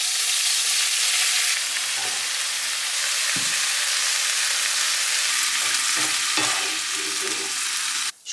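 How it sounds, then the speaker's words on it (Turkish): Vegetables with sesame and soy sauce sizzle steadily in a pan while being stirred and turned, the frying hiss continuous and close, broken by occasional scraping knocks of the utensil. "Şimdi hepsini tavada çeviriyorum."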